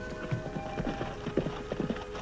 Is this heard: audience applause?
no